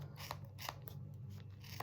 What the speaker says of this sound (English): we'll cut it. We start from the folded end, and along we go with our